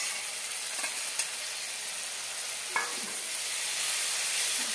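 Onion paste fries in a pan for a chicken curry, giving a steady crackling sizzle broken by a few sharp scrapes of stirring. No talking is heard.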